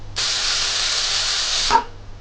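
A loud, steady hiss of steam bursts out of a pressure cooker whistle for about a second and a half, then cuts off abruptly with a brief rattle.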